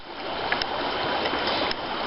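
A river flows past a gravel bar where it bends, giving a steady, close rushing and babbling of water that runs unbroken, with a few faint splashy ticks and no talking.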